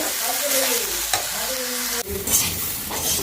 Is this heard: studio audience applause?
no